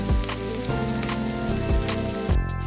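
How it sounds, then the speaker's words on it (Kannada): Onions frying in a pan for a vegetable pulao, giving a steady close sizzle with tonal background sound layered over it throughout. "ಎಲ್ಲ ಚೆನ್ನಾಗಿ ಫ್ರೈ ಆಗಬೇಕು ನೋಡಿ"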